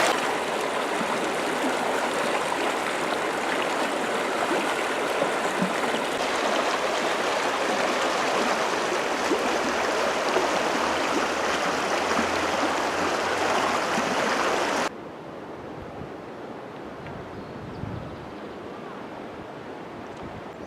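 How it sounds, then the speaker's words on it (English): The Virgin River runs through Zion Canyon in a steady, loud wash of flowing water, close by for about fifteen seconds, then a quieter, more distant rush continues to the end. "It's the river that runs through Zion Canyon"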